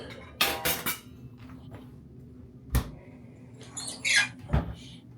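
Drawers in a cruise ship grand suite cabin are pulled open and pushed shut, giving several sharp wooden thuds and knocks with sliding scrapes and a light rattle, close by and irregular, with no talk.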